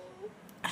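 A woman with a dry, scratchy throat gives a short throat-clearing cough, a quick close burst at the end of an otherwise quiet moment.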